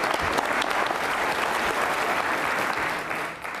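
A crowd at an Independence Day quiz show with NCC cadets claps steadily and loudly for a contestant, a thick, continuous wash of applause filling the whole moment without letting up.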